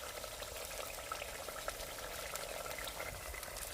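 Mutton masala sizzles and crackles steadily in oil in a village-style kitchen pan, a continuous bright frying hiss with no talk over it.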